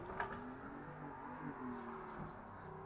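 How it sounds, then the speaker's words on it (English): Car engine held at full throttle during a drift, a steady droning roar with rising and falling pitch as the throttle is worked, close and continuous, with faint background noise. "Full throttle, and ease up."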